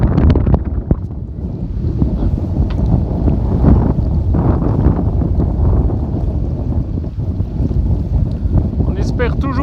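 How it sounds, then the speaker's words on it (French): A strong gust of wind sweeps across a bay around a boat riding at anchor, a loud, continuous roar of wind buffeting the microphone with a rushing undertone of water, steady throughout. "bonne rafale dans la baie"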